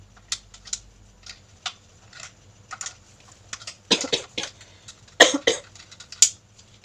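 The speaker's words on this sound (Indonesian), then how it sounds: "saya lagi terkena flu dan batuk, jadi ada intro batuknya sedikit" Several short, sharp coughs from a person with flu, in scattered bursts, a few lighter ones first and then louder clusters near the end, close to the mic with no talking.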